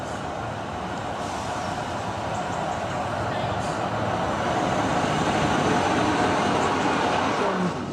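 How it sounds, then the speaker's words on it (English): A Class 153 single-car diesel unit on the Marston Vale line between Bletchley and Bedford rumbles steadily into a station, a broad continuous roar that swells slightly as it approaches. "Trains coming in."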